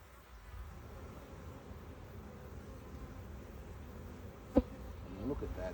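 Honeybees buzz steadily around an opened hive crowded with brood frames, a soft continuous hum at moderate distance, with a brief sharp knock near the end.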